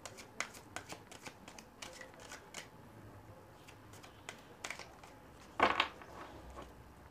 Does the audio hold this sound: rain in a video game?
no